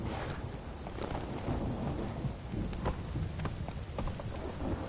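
Horse hooves clip-clop in The Witcher 3 video game, a steady galloping rhythm of muffled thuds blended into a dense wash of rain-like ambient noise, moderately loud and continuous with no speech.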